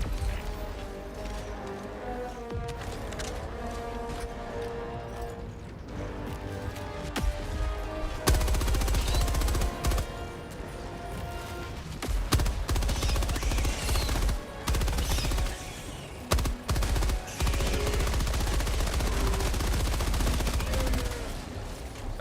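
Support weapon gunfire in Helldivers 2 on difficulty 10: sustained rapid automatic bursts, loud and close, with short pauses between strings of shots and a few heavy impacts.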